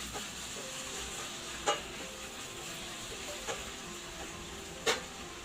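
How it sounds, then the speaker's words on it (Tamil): Chopped tomatoes sauté in a hot pan for chilly mushroom masala, a steady close sizzle broken by a few sharp scrapes and taps of the stirring spoon. "தக்காளியை போட்டு நல்லா வதக்கி விட்டுக்கோங்க"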